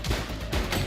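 Gunfire in the police game Precinct: a short, dense burst of overlapping shots, loud and close, with several sharp cracks packed into under a second and no voices.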